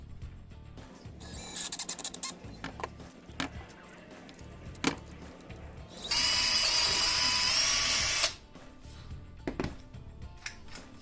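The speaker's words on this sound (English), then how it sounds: "we're going to be using a number 10 drill bit" A power drill with a number 10 bit boring holes through plastic for a Toyota Tacoma dash mount, a steady high whine for about two seconds amid clicks and handling knocks.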